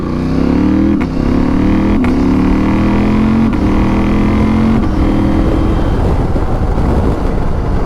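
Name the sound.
Husqvarna Norden 901 motorcycle accelerating, testing the quick shifter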